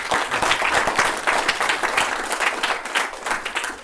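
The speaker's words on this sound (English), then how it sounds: "please, I'd like you to give my panelists a good hand" An audience applauds panelists at a conference panel discussion, with a dense, steady burst of clapping from a crowd, close and loud, with no talking over it.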